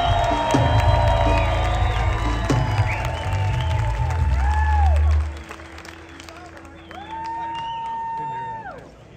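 A crowd at a live blues concert claps, cheers and whoops as music winds down, loud at first then thinning out, with voices calling out over it.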